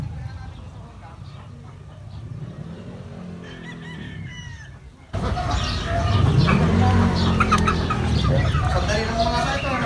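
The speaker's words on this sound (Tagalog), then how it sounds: "may manok, may itik, may bibi." Chickens cluck and call in a backyard with ducks among them, a rooster-like crow mixed in, while a person talks nearby; the sound grows louder midway.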